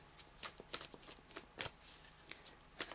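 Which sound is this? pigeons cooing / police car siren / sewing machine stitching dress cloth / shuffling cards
shuffling cards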